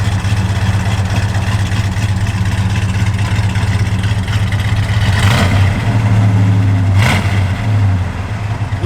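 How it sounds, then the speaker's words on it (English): A 1970 Plymouth Road Runner V8 idling loud and close, with a lumpy, throaty cam rhythm and a couple of brief blips of the throttle toward the end. "Now you can hear that cam working."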